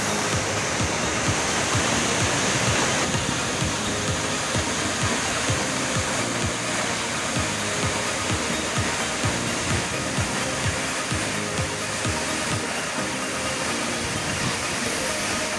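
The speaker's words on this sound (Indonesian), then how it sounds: "Di area air terjun ini kita bisa bermain air atau berenang di bawahnya" Steady, loud rushing water of Montel waterfall roars throughout with no letup, a dense continuous wash heard up close.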